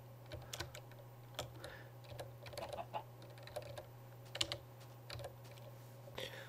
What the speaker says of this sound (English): press the R key on your keyboard.